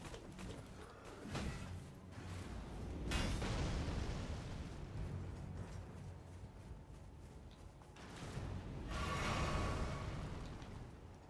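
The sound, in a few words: giant ballista firing in video game Elden Ring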